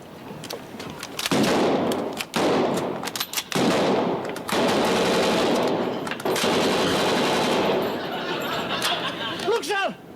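A Lewis gun machine gun fires in long, loud sustained bursts with short gaps, joined by rifle fire during a wartime home guard drill, with brief shouting near the end.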